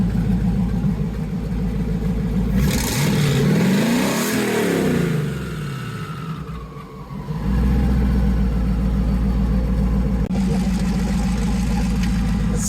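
A Camaro engine fires up and revs loudly nearby, rising and falling through a sweeping rev, dipping briefly, then settling into a strong rumbling run with no talking.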